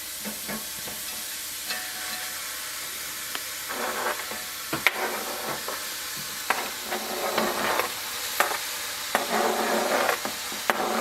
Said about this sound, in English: you just kind of put it in there and saute it down until the onions are pretty nice and tender